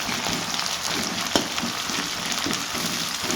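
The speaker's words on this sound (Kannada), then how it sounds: "ಚೆನ್ನಾಗಿ ಫ್ರೈ ಮಾಡ್ಕೊಬೇಕು." Leafy greens frying in a pan for a dhaba-style tomato curry: a steady, close hiss and crackle of hot oil, continuous and even with a brief sharper pop partway through, no voices.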